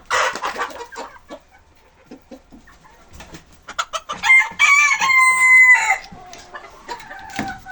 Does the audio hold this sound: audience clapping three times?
no